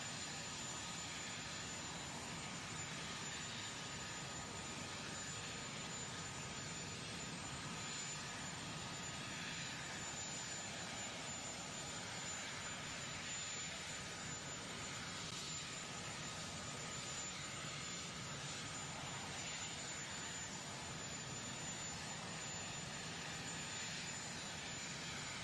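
Helicopter outside the White House, heard as a steady, loud turbine whine and rushing engine roar that holds unchanged for the whole stretch, with no voices.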